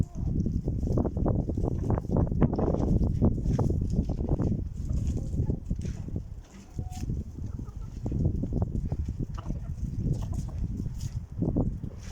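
Chickens, including full-tailed hens from three merged broods, cluck and stir close by in a farmyard, with scattered short calls over a steady busy background and a brief lull midway.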